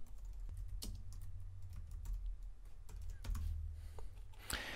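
Keystrokes on a computer keyboard enter a search term into a public library's online catalog, a quick irregular run of close, crisp clicks over a steady low hum, with no talking.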